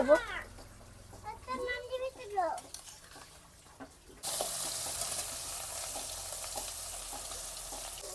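Ground coconut seeds and chili paste go into hot oil in a kadai and hit it with a sudden loud sizzle. A voice talks first, then the steady frying hiss continues alone to the end.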